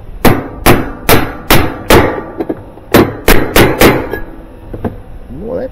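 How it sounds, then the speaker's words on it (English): A hammer taps shims under a Maytag/Whirlpool washer, with sharp close strikes in two quick runs, first five evenly spaced blows, then a brief pause and four more, with a faint voice near the end. "Okay, where's my hammer?"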